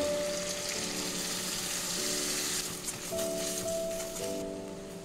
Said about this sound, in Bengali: এবার এই মশলা ধোয়া জল একটু দিয়ে দিচ্ছি।